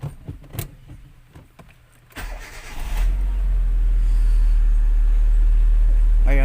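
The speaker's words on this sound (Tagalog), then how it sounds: "Ngayon paandarin na natin sa sasakyan guys." A car with a leaking AC compressor shaft seal and O-ring cranks briefly and then starts, settling into a steady loud idle close by, with a person speaking just before.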